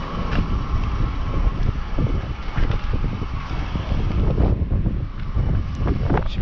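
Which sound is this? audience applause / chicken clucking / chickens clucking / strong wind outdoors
strong wind outdoors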